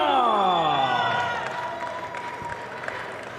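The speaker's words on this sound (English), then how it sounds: "Everybody's cheering for you. Todo el mundo te está aplaudiendo." Applause and cheering from a crowd at a super-middleweight boxing open workout for Canelo Alvarez, a dense wash of clapping that starts loud and slowly fades, with voices mixed in.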